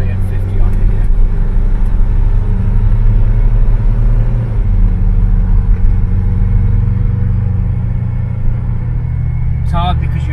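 Ford Cortina Mk3 with a newly fitted replacement axle cruising at 50 mph, a steady loud engine and road rumble filling the cabin throughout, with a person talking over it.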